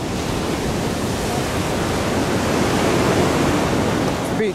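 Ocean waves wash continuously onto the beach at the Galle Face Hotel in Colombo, a loud, steady roar of surf with wind in the microphone and no break in the rush.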